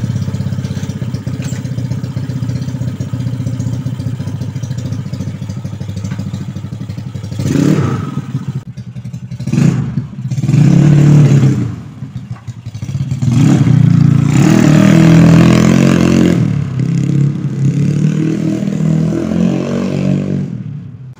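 A chain-driven automatic scooter's engine idles, then revs in repeated loud bursts while riding off-road, with clattering and a sustained high rev toward the end.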